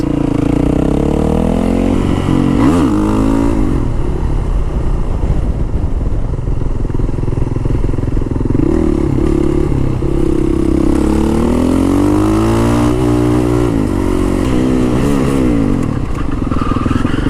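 A motorcycle engine revs repeatedly before a wheelie, loud and close, the pitch rising and falling in sweeping surges over a constant rumble.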